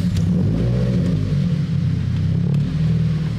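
Turbocharged Subaru BRZ engine idling with a steady low rumble and slight fluctuation, loud and close, no one talking.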